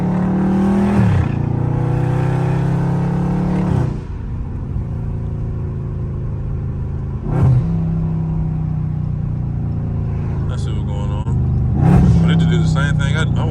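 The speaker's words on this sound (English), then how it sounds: "I know how to make it sound like people be thinking I be flooring them" Dodge Charger Scat Pack V8 revving hard through downshifts in traffic, several loud rising bursts with pauses between, close to the cabin, with someone talking throughout.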